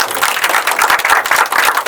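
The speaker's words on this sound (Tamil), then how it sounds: "அவருக்கு ஒரு பலத்த கைத்தட்டல் கொடுக்கலாம்" An audience claps for an actor at a film crew event, a dense, steady patter of many hands applauding close by.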